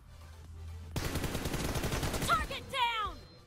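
Rapid gunfire from a mobile shooter video game, a dense burst of shots lasting a couple of seconds, loud and close, followed by sweeping electronic game effects.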